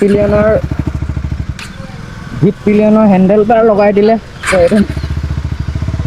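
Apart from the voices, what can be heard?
Husqvarna Svartpilen 250 motorcycle engine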